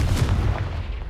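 A Confringo spell blast in Hogwarts Legacy, a short booming burst with heavy low rumble that fades over about a second, loud and close with no talk.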